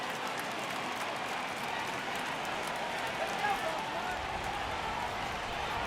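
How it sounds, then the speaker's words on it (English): Steady, dense baseball stadium crowd noise from MLB The Show 18, swelling for a full-count 3-2 pitch in a Marlins at Orioles game, a continuous wash of cheering with a brief lift near the middle, under commentary. "Crowd gets up for the 3-2."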